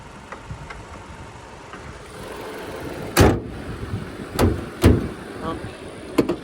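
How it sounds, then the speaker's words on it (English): The hood of an idling 2013 Jeep Patriot Latitude is shut. Three sharp, close thumps land over a low, steady engine hum, followed by a fainter knock near the end. "Oh, helps if you close the hood right."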